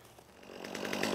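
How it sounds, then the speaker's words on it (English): A chainsaw starts up in the open, the engine catching and climbing into a steady, rising buzz that grows louder over about a second before cutting wood. "let's start up the chainsaw"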